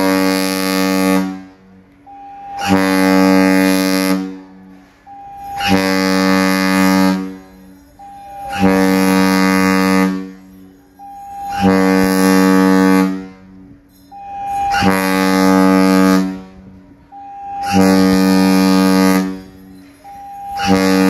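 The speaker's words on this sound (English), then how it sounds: "We have set a port board short blast, followed by a long blast on the ship's whistle." Carnival Legend cruise ship's whistle sounding a repeating pattern of a short blast followed by a long blast, loud, deep and sustained, several cycles in a row at embarkation.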